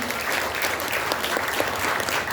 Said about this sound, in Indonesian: Tepuk tangan untuk ibu saya